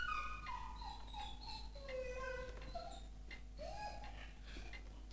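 Several dogs whine and whimper in faint, high, wavering cries, overlapping one another against a low steady hum.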